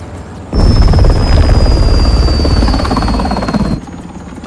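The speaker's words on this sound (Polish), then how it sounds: "Sojuszniczy helikopter zbliża się od południa." An allied helicopter approaches in Call of Duty: Modern Warfare, a loud, close rotor thump with a whining turbine tone that swells abruptly and holds for a few seconds before cutting back.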